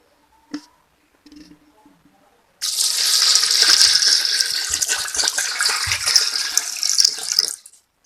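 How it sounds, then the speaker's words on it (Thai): Water pours into a container of Orbeez water beads, a steady close splashing stream lasting about five seconds after a few soft clicks and handling noises. "จะเติมน้ำอีกนะคะ จะได้ใหญ่ๆเนาะ"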